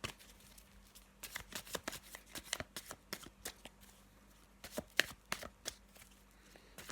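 Tarot cards being shuffled and laid down on a table: a long run of crisp, close riffling snaps and soft flicks in irregular bursts, with a brief pause partway through.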